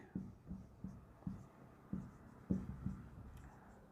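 Chalk or marker writing on a classroom board, heard as soft rhythmic taps and short scratchy strokes repeating roughly every half second, quiet and close, with no talking.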